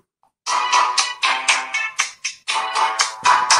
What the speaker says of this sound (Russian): В отношении звука поставлю вам рингтон.